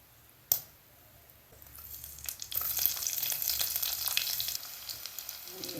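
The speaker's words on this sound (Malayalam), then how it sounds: "കടുകിട്ട് പൊട്ടി വരുമ്പോൾ ഉള്ളിയിടാം." Mustard seeds in hot oil start with one sharp tap, then build into a close, crackling sizzle full of rapid small pops. No one speaks.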